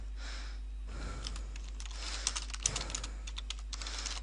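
Fingers type a sentence on a computer keyboard: a short burst of quick, close keystroke clicks, slightly uneven in rhythm, with no speech.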